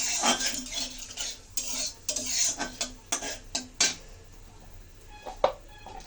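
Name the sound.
frying spice tempering in pan for fish curry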